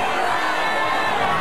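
At a concert, a crowd yells out front in a dense, sustained roar of many voices.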